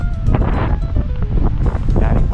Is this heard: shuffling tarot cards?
no